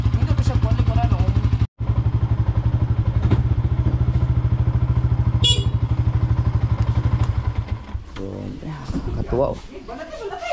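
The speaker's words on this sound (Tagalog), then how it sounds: "Pinakamatibay na motor yan." A motorcycle engine idles loudly and steadily close by at a resort, a low chugging rhythm that runs unbroken for most of the clip before dropping away, with clatter and people talking over it near the end.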